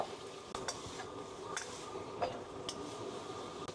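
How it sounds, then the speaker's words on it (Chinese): Meat stir-fried over high heat in a wok with dark soy sauce, a soft continuous sizzle broken by several sharp spatula scrapes and clinks against the pan. "大火翻炒，少点一点老抽，上色"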